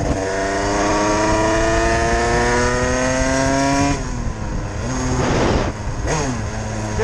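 A 50cc moped engine warms up with a loud, steady droning idle close by, then revs up and down in a few short surges toward the end.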